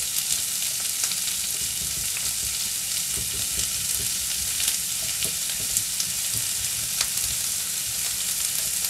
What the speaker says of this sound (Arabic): Je commence par faire revenir les oignons.